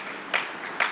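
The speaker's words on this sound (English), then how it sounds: "Big round of applause for the Grand National" An audience at the Grand National Friction Championship turkey-calling finals applauds in two brief bursts of clapping, close and moderately loud over a steady crowd murmur.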